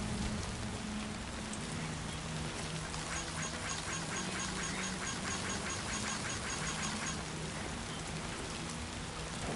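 Steady rain patters and hisses throughout in the video game Death Stranding 2, with a short run of quacking or chirping calls in the middle; no one speaks.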